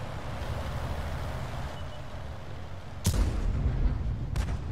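A Swedish medium tank's main gun fires in World of Tanks, a sudden heavy boom cutting through steady engine and battlefield rumble, with a fainter second blast shortly after.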